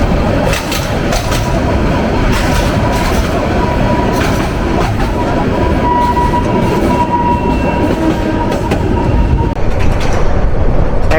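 A Turag commuter train runs on rails between Dhaka and Joydebpur, giving a loud, steady, continuous rumble of wheels and carriages close by, with no talk.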